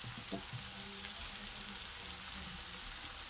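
Peas and carrots sauté in hot oil for rava upma with a soft, quiet sizzle and faint crackle, broken by a few light stirring taps near the start.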